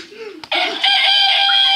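A loud, close rooster crow rings out in a harsh, strained burst after a short lower vocal sound, in a playful game scene.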